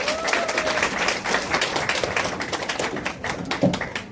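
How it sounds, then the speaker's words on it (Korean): An audience claps for a lecturer at a Nu Skin beauty class, steady dense applause continuing throughout with a few louder taps close by. "다시 한번 감사의 박수 부탁드립니다"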